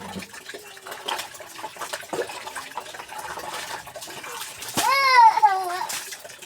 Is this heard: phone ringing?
no